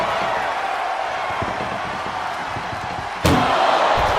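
A heavy ambulance door slams shut during a chaotic WWE 2K25 ambulance wrestling match, one sharp loud impact cutting through a steady arena crowd roar, with commentary-like voices faint beneath the din.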